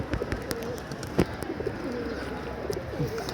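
Pigeons from a rooftop loft out in the sky, with soft cooing and short chirps close by over faint background noise.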